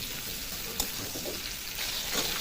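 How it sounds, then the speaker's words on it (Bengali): Ridge gourd and potato pieces fry in a kadai on high flame, giving a steady low sizzle with an occasional stir or clink; faint and without talk. "তার জন্য হাই ফ্লেমে ঝিঙেগুলোকে কিছুক্ষণ ভেজে নেব।"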